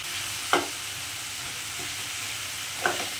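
Coconut curry with chili powder sizzles steadily in a pan, a soft continuous frying hiss. Two brief louder scrapes of a spoon stirring rise over it.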